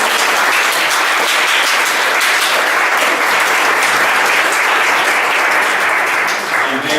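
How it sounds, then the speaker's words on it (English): A round of applause fills the room at a township committee meeting, honoring the mayors for a day, with steady, dense clapping that holds loud and continuous for the whole stretch before easing slightly at the end. "I'll just ask that we give our mayors for a day another round of applause"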